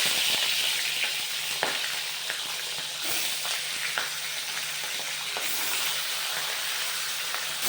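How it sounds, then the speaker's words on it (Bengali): Fish pieces seasoned only with lemon juice and salt fry lightly in a pan. The oil gives a steady, close hiss and sizzle with a few faint clicks, and no one speaks. "একদমই সাদা করে মাছটা হালকা একটু ভাজবো।"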